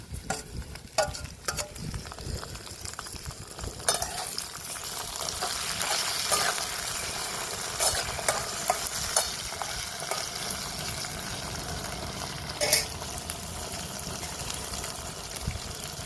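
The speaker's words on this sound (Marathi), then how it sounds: "छान मिरच्या टाकून घेते टोमॅटो आता टाकून घेते मिरच्या शिजल्यावर" Chillies and tomatoes frying in a pan for a fish curry, a steady close sizzle with intermittent stirring scrapes and small clatters throughout.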